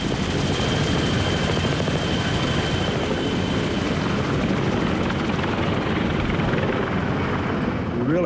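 Helicopter rotors throb loud and continuous at close range, a dense whirring drone that holds steady throughout with no talk.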